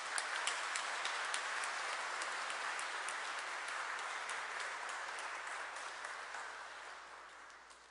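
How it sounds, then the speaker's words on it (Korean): Sustained audience applause at a Catholic celebration in Seoul honoring priests' 50th ordination anniversary, a dense steady wash of many hands clapping that holds for the whole stretch and tapers slightly toward the end. "다시 한번 큰 박수 부탁드립니다"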